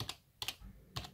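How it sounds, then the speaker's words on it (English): Fast key clicks from a computer keyboard typed with one hand, three short clustered bursts of taps, close and fairly quiet with no talk. "typing with one hand is not easy at all"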